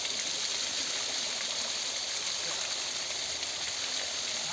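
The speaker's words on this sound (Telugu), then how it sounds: "Welcome to Kona water falls." Kona waterfall at Yadiki, Anantapur, a constant broadband rush of falling and flowing water, steady and fairly close, with no voices.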